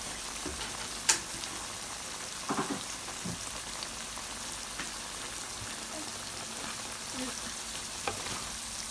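Gizzards sautéing with chili and garlic in a pan, giving an even, rain-like frying hiss throughout with a couple of soft knocks from stirring.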